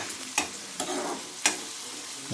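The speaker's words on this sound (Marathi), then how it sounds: "कांदा पहिला पूर्ण शिजवून घ्यायचा, परतून वगैरे मस्तपैकी असा शिजला पाहिजे कांदा चांगला" Onion sautéing in a pan for a Konkan-style kalwa (oyster) dish, a soft continuous sizzle broken by a few sharp scrapes of a spatula stirring, close and fairly quiet.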